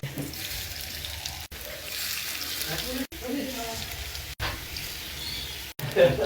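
Pakora batter frying in hot oil in a wok gives a steady, hissing sizzle that runs throughout, broken by a few abrupt short gaps, with a faint voice at moments.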